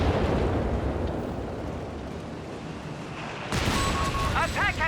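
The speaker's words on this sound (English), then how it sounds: "Naval bombardment on the 88." Naval bombardment explosions in Company of Heroes 3 rumble as a heavy, continuous roar of blasts that cuts off abruptly, followed by thinner game effects and chirps.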